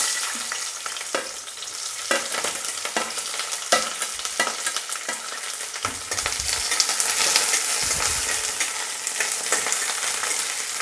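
Onion goes into two spoons of hot oil in a kadhai. A bright, continuous sizzle plays up close, broken by sharp clicks and scrapes of stirring.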